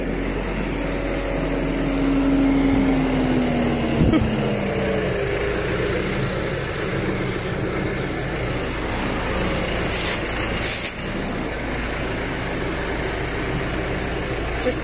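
Tractor engine running steadily through silage work outdoors, a continuous low rumble with wind noise and no talk.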